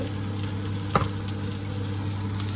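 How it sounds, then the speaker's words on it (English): Cauliflower crisps in hot oil for coconut milk vegetable rice, a steady crackling sizzle with one brief louder pop partway through and no voices. "So first we have to fry the cauliflower until it becomes very crisp."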